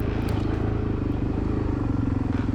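A Suzuki DRZ400E dirt bike engine drones loudly and steadily during the Whiskey River cross-country race, with a pulsing, continuous rumble.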